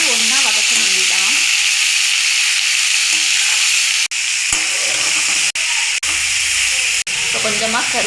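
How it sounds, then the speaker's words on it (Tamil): Onion, tomato, green chillies and dried red chillies sautéing together in a pan, a loud continuous sizzle and hiss with brief breaks, while someone talks over it. "வெங்காயம், தக்காளி, பச்சை மிளகா, வரமிளகா எல்லாத்தையும் சேர்த்து ஒன்றா வதக்க வேண்டியதான்"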